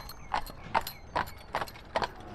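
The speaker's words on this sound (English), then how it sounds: "this is a horse-drawn carriage" A horse-drawn carriage at Colonial Williamsburg passes with its hooves clip-clopping on the street in a steady, evenly spaced beat. The clops are fairly soft, with a faint mechanical rattle behind them.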